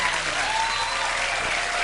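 Studio audience on a 1985–1991 Letterman late-night show applauding steadily, a dense even wash of clapping that holds at the same level throughout with no talk over it.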